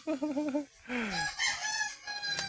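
A fighting rooster crows twice nearby, loud drawn-out calls with a wavering pitch, with faint clucking and background noise between them.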